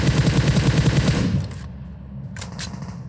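Automatic gunfire in the PUBG video game on the Livik map: a loud, rapid, steady burst of shots that stops after about a second and a half, followed by a couple of fainter distant cracks.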